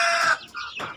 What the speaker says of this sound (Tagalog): medyo maliit lang yung mga manok